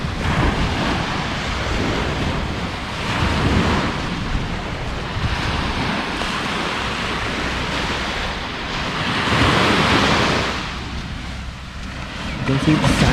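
Surf rolls steadily onto Al Bustan beach in Muscat, Oman, a continuous loud wash of breaking waves mixed with gusty wind buffeting the microphone.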